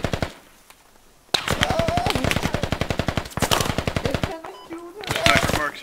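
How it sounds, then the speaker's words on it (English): Squad machine gun fired from the hip in long, loud, close automatic bursts, rapid evenly spaced shots separated by brief pauses, with distant gunfire faintly in the background. "hip firing the machine gun does not work"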